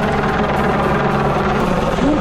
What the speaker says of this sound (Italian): sopra di noi l'elicottero